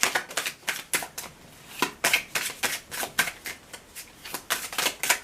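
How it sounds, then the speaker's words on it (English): Quick, crisp bursts of cards being shuffled, riffled repeatedly in an irregular rhythm, close and fairly loud with no talking. "now we will shuffle your cards out"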